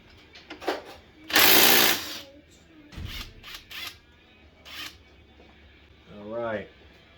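A 17mm cam sprocket bolt comes off a 2006 Yamaha Raptor 350, heard as a loud burst of ratcheting or impact-tool noise followed by several short mechanical clicks and clatters, with a voice speaking briefly near the end.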